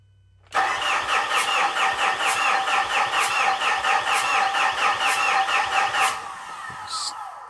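A Fuso FG truck engine cranks over and over with a rapid, rhythmic starter chug for about five seconds, loud and close, then stops without catching.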